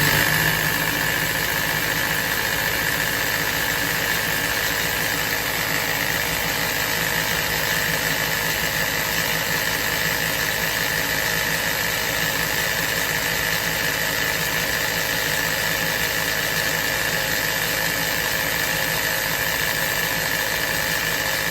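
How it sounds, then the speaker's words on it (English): A Juki industrial sewing machine winds a bobbin under foot-pedal power, giving a steady, continuous motor hum with an even mechanical whir that runs unbroken from start to finish with no talking. "once I step on the foot pedal, it's gonna wind up the bobbin"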